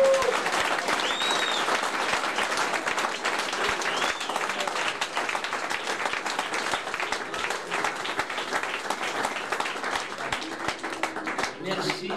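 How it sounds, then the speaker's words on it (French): A church congregation applauds at a Friday worship service, steady dense clapping filling the room for the whole stretch, with voices and exclamations rising over it. "Nous applaudissons les Seigneurs."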